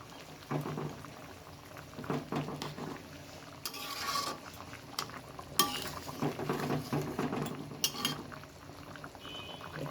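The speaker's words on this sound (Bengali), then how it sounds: "ঝোলটা এখন ফুটে উঠেছে" Pangas fish curry gravy with potato bubbles in a pot, a close, uneven simmer broken by stirring scrapes and light utensil clinks against the metal.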